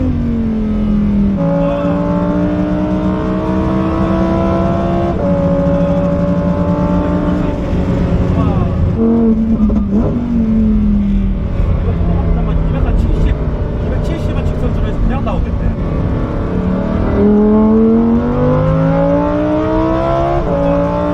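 A Lamborghini Huracán STO race car accelerates hard on a track, its engine note climbing through the gears in repeated rising sweeps with brief dips at shifts, loud and close throughout, with people talking over it.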